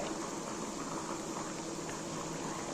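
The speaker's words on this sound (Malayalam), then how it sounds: "എൻ്റെ മീൻ കറി നന്നായി തിളച്ചു കൊണ്ടിരിക്കുകയാണ്" Fish curry boils in a pot, making a faint, steady simmering hiss with soft continuous bubbling throughout.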